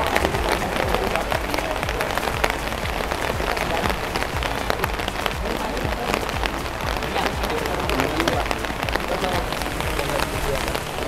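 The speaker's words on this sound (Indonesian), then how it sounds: "hari ini curah hujannya cukup tinggi juga" Heavy rain pours down outdoors in a dense, unbroken roar of drops striking surfaces, loud and steady for the whole stretch.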